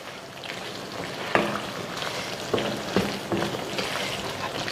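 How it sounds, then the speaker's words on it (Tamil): Chicken gravy simmering in a pan as it is stirred after a sprinkle of kasuri methi, a steady bubbling sizzle broken by a few distinct spoon scrapes and clacks, close and without talk. "கொஞ்சமாக கசூரி மேத்தி இந்த மாதிரி மேலே தூவிட்டு கிளறி விட்டுட்டு இறக்கிக்கலாம்"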